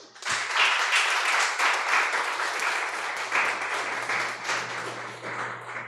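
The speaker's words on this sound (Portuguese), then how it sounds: "eu queria que vocês agradecessem com palmas para as meninas" Steady applause from an audience at a panel discussion on women in the job market, dense continuous clapping lasting several seconds at moderate distance, with no talking over it.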